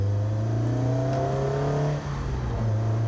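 A Honda S2000 fitted with a K&N FIPK induction kit drives along, its engine giving a steady droning hum from inside the car with a slight dip and recovery partway through, and no one speaks.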